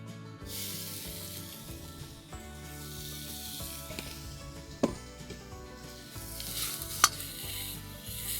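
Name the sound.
pancetta sizzling in a pan over fire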